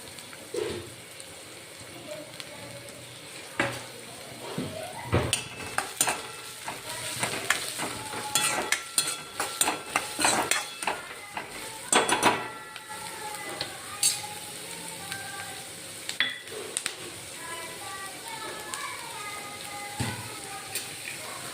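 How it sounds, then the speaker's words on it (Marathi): Onion frying in oil in a pan crackles and spits steadily, with bursts of louder popping and sputtering in the middle and a quieter hiss toward the end, heard close with no talking. "कांदा आपण थोडासा लालसर होईपर्यंत त्याला होऊ देऊ तेलामध्ये"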